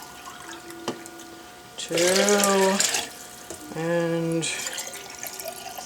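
Cold water runs from a tap in two bursts for a summery drink, the first about a second long and the second after a short pause, with brief speech in between.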